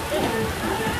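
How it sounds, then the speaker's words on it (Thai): Heavy rain pours down during an amateur sevens football match, a loud, dense, steady hiss filling the whole moment. "วันนี้ฝนค่อนข้างจะตกแรงนิดนึงครับ"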